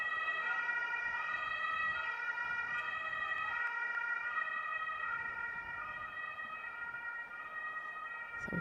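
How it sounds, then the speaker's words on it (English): An emergency services siren wails continuously at a cricket ground in Krefeld, Germany, its rising and falling tones steady and fairly distant over a low hum of background noise. "As the emergency services sirens go here"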